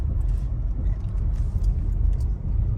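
A car drives at night on a county road, heard from inside as a steady low road rumble and engine drone with faint tire noise and no talk.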